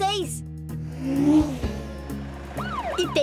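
Police car siren in a children's animated cartoon with toy vehicles, rising and falling wails near the end, heard over music and other cartoon sound effects.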